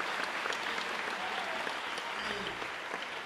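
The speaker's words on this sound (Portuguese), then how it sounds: "aplausos para essa turma genial, luz, som" A concert audience applauds the sound and lighting crew at a jazz show, a dense, continuous roar of clapping with crowd murmur, loud and unbroken, with a faint voice underneath.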